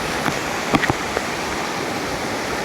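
Bendewadi waterfall in Khindi near Lonavala roars as a steady, loud, broadband rush of falling water close by, with a few faint brief knocks under the constant wash.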